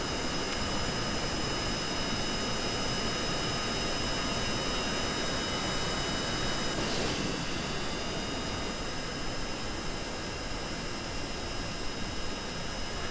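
A combat flight simulator jet's engine whines steadily and loudly as the aircraft taxis, a continuous broadband roar with faint high tones.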